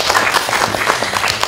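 Enthusiastic applause from a crowd at a Nepali community donation gathering, a steady, dense patter of many hands clapping close and loud for its full length.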